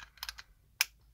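Keystrokes clatter on a new wireless keyboard, a quick burst of three or four taps followed by one sharper click, close and fairly quiet with no talking.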